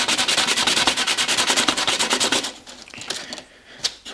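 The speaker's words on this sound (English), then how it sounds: "I can see this one needs to be sanded down" The edge of a wooden cutter cube is sanded by hand in quick, even back-and-forth strokes, close and loud, for about two and a half seconds. Then come a few softer rubs and light taps.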